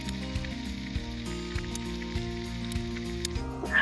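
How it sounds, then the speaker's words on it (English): Vegetables sauté in a little over a tablespoon of butter in a saucepan, making a soft, steady sizzle under a low background hum. "I have a little bit over a tablespoon of butter in my pan, my saucepan. These have started to saute."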